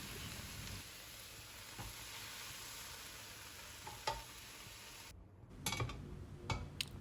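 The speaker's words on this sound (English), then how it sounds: "I add 2 teaspoons of oil to fry 6 eggs" Six eggs fry in two teaspoons of oil in a pan, a quiet, even sizzle that runs on and then gives way to several louder clatters and taps near the end.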